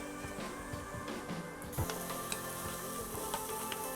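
Onions browning with ginger garlic paste sizzle steadily in a pan for mutton keema masala, a continuous close frying hiss with small crackles and a brief clatter partway through.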